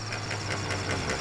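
A vehicle engine runs at idle with a steady low hum and a faint rhythmic knocking pulse that repeats several times a second, fairly quiet and even, with no one speaking.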